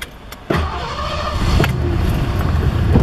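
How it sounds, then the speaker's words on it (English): A 1989 Lincoln Town Car engine rumbling close by, with a sharp clunk before the idle grows into a steady, loud low-pitched rumble that holds through to the end, no voices present. "89 Lincoln Town Car. Hear that baby rumble."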